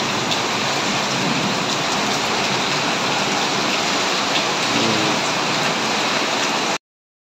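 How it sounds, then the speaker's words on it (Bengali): Steady heavy rain pours down during a storm that has soaked a home and kitchen and brought down a coconut tree, a dense, continuous hiss filling the whole stretch loudly and evenly with no voices. "আজকে দেখো বৃষ্টি পড়ে"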